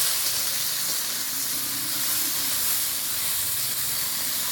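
Spices with turmeric and salt fry in a hot pan for a chicken samosa filling, giving a loud, steady sizzling hiss close up that continues evenly throughout with no talking.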